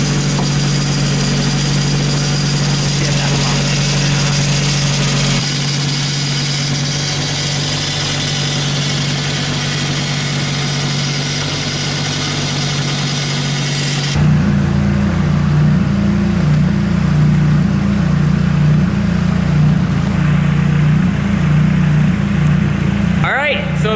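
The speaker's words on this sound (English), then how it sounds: "the motor hitting a blood right now, it sounds great" A Nissan SR20 engine idling steadily and loudly, with a shift in tone partway through as the running note drops and roughens.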